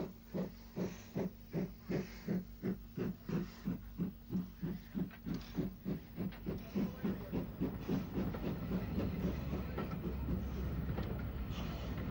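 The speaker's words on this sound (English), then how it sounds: "Back at Pier Head, the tram is shuttling to and fro." A tram shuttles along the pier at Pier Head on the Isle of Wight, giving a steady, rhythmic beat of wheel clatter over a hissing rumble that smooths into a continuous roll toward the end, with no voices.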